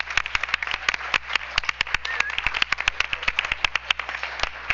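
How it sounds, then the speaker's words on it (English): Scattered clapping from a small group at a school district board meeting, a few dozen sharp, uneven claps close by with no one speaking. "Let's give them an applause."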